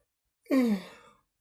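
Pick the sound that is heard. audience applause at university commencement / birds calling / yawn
yawn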